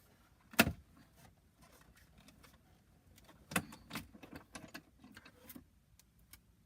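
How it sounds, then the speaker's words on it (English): A die cut machine rolling card through: a faint mechanical grind under a few sharper clunks and clicks, close but quiet, with no speech. "So here we go, running through the die cut machine."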